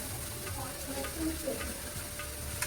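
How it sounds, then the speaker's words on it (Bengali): Cut vegetables fry in a pan for a prawn curry, giving a steady close sizzle with light stirring scrapes and ticks, alone without talk. "এবার সবজি কাটা ঢেলে দিয়ে দিলাম।"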